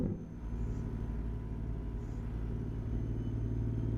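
Freightliner Argosy truck engine in American Truck Simulator, a steady low diesel rumble that holds even and continuous throughout with no talk over it.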